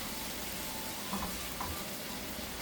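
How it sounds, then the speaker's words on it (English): Steady, even sizzling of sofrito (onion, peppers, garlic, cilantro) stir frying in a hot pan, a continuous soft crackle with no talking. "So I'm just stir frying the sofrito a little bit."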